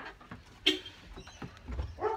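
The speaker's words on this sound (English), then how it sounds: "Dog is barking." A dog barks outdoors on a cloudy day: two short, moderately loud yelps about a second apart over a quiet room background.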